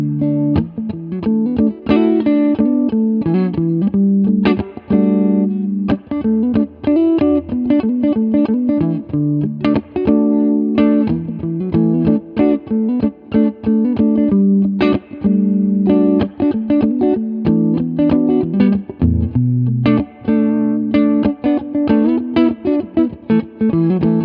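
Electric guitar playing an intermediate chord example through effects with distortion and reverb, strummed chords ringing continuously with rhythmic attacks for over twenty seconds, loud and close with no talking.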